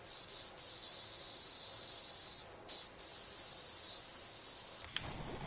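Steady broadband spray of a pressure washer in Powerwash Simulator 2, a continuous hiss running unbroken with a few brief dropouts where the trigger is released, close and fairly loud with no voices.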